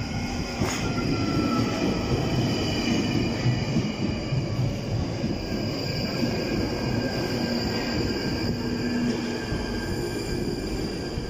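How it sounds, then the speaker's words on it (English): A London Underground train bound for High Barnet pulls into the platform with a loud, close, steady rumble of wheels on rails and a thin, sustained squeal of metal running through the whole stretch. "train now approaching is to High Barnet"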